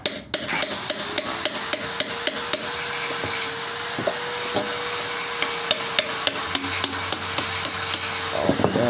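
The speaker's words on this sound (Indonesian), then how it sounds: "dan kita pahat aja seperti ini ya" A glued motorcycle exhaust filter being chiseled out of a Rob1 exhaust in a welding workshop, sharp metallic hammer-on-chisel strikes repeating at a steady rhythm over a constant loud whirring hum, close by.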